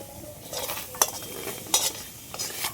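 Dry red chillies, black peppercorns and coriander seeds fry in hot oil in a wok, giving a soft steady sizzle broken by a few sharp stirring clinks and scrapes, close and with no voices.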